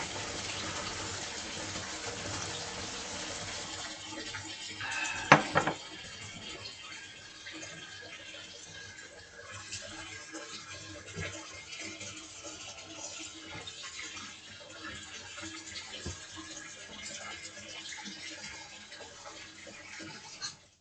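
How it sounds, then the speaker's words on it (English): Hot water runs from a tap into a bathtub with a soft, steady rushing gush that carries on throughout, broken by a brief knock or splash near the start. "I can put some more hot water."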